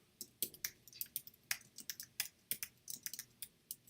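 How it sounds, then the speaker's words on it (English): Typing on a computer keyboard, close and quiet, with irregular bursts of crisp key clicks and no talk. "Pardon my typing."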